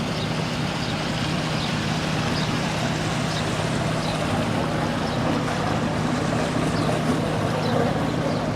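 A motorboat moving through a flight of canal locks in Scotland gives a steady engine drone with a low hum, mixed with water wash and wind noise, continuous and fairly close.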